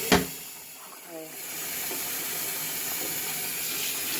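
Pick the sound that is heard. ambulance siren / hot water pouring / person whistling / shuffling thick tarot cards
hot water pouring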